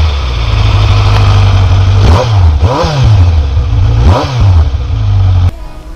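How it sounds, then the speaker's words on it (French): A 2018 Kawasaki Z900 motorcycle with its stock exhaust idles loud and close, then revs sharply twice in quick bursts before cutting off abruptly. "Même avec un échappement d'origine, on a un bruit qui est quand même... qui est quand même magnifique"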